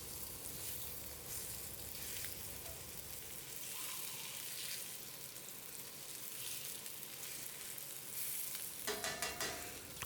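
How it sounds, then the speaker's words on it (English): A whole juvenile squirrel fries in a 10-inch cast iron skillet, giving a steady, close sizzle and crackle throughout, with a brief scrape or clatter near the end. "As your squirrel is frying,"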